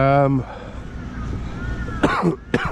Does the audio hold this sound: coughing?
yes